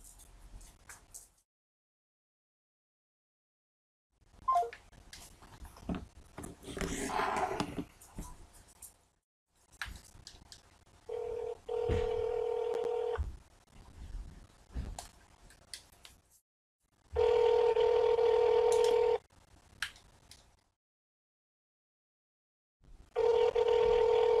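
Phone call being placed: bursts of clicking and dialing, then repeated steady ringback tones in long pulses separated by silent gaps, fairly loud and alone.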